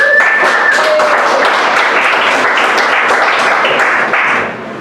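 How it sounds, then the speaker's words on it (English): Audience applause at a stand-up comedy show in West Virginia, a dense, steady burst of clapping filling the room for several seconds before tapering off at the end, with no speech over it. "Clap it up for yourselves again."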